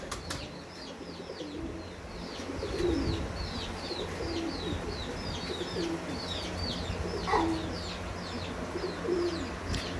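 Lahori (Ghamaggar) breeder pigeon giving repeated low throaty coos at a steady rhythm, with chirping birds and a few wing flutters in the background, moderately close.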